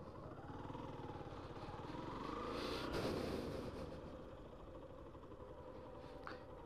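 A trawler boat's engine chugs steadily along a river, a continuous low mechanical drone that swells slightly as it passes and then eases off, heard from the bank at moderate distance.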